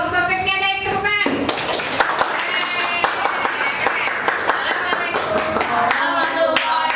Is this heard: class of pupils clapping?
yes